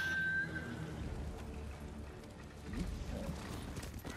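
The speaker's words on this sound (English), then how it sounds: "whistle for my horse" Horse hooves clip-clop in Ghost of Tsushima as the mount arrives after a whistle, steady rhythmic hoofbeats with a brief high whistle at the start, game ambience underneath.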